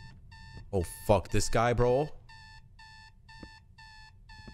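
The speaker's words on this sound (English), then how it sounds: "I really need to turn this alarm off" An electronic alarm clock in a horror hide-and-seek video game beeps in steady repeated bursts, pausing briefly while someone talks loudly over it, then resuming its regular ringing.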